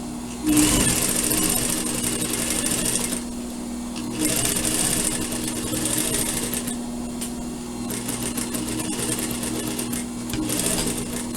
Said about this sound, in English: now you're going to stitch around the other